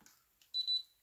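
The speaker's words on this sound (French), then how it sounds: "Et voilà, c'est prêt. Ça fait bip bip." Heat stamping machine giving its ready signal, a short pair of high electronic beeps after a faint soft click, in a quiet room.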